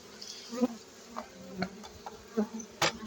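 Honeybees buzz steadily up close at a crowded hive entrance fitted with a pollen trap, with individual insects droning louder as they pass by, several brief swells over a low hum.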